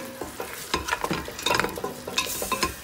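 Masala roasting in oil in a pan for mutton biryani, with a steady sizzle broken by repeated scrapes and clinks of a spoon as it is stirred, close and fairly loud with no talking.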